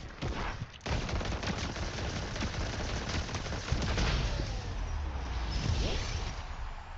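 Rapid pistol gunfire in a video game, dense continuous popping shots layered over a steady roar of game noise, loud and close, with a voice briefly talking.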